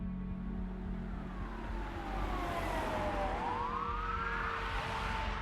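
Police car sirens wailing and sweeping in pitch over a steady rumble of traffic, loud and continuous, with a second siren rising and crossing the first.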